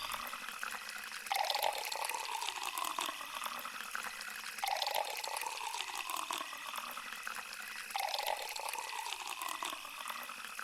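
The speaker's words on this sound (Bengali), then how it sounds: "কল থেকে অঝরে পানি পড়ছে" Water running steadily from a kitchen tap, a continuous splashing stream at moderate level with faint periodic swells, no talking.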